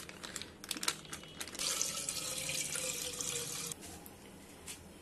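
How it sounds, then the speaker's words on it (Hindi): Milk poured into a pan on the stove for a vanilla custard cake, a steady liquid stream lasting about two seconds after a few clinks, close and quiet with no talking. "तो इसमें दूध डाल लेते हैं।"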